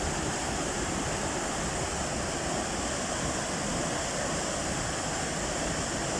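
River water flowing across from the Bhutan side near a homestay in Jhalong, a loud, steady, broadband rush of fast-moving water that fills the whole stretch without pause.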